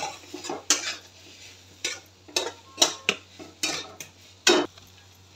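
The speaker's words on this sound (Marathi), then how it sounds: "आता याला काय करायचं, थोडंसं परतून घ्यायचं" Squeezed grated raw mango is sautéed in a pan, heard as a series of sharp spatula scrapes and clinks against the metal, spaced irregularly over faint background hum.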